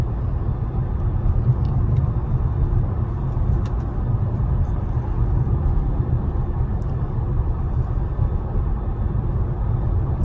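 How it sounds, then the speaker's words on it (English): Steady, even road rumble from inside a 2013 Tesla Model S on a long-distance highway commute, a continuous low drone of tire and wind noise with no talking. "this is driving long distance commuting in a Tesla"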